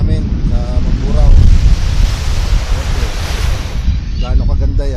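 Sea waves wash against the shore with a steady rushing surf and strong wind buffeting the microphone on the coast of Mamburao, Occidental Mindoro, on a rainy day, with a voice speaking faintly under the roar.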